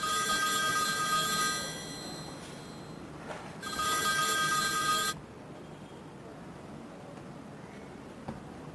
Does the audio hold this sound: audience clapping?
no